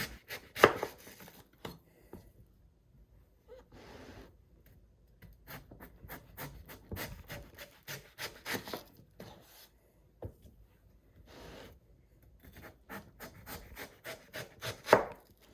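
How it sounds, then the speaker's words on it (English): A knife makes crisp, irregular cutting and scraping strokes through firm watermelon rind, quiet and close, with short pauses between bursts of slicing. "So we're pretty much just peeling the watermelon at this point."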